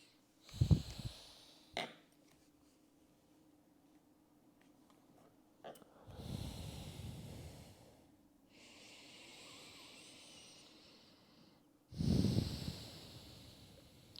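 Deep breaths during a hip-opening yoga flow: a few slow, airy inhales and exhales, soft and close, spaced apart with long near-silent gaps between them.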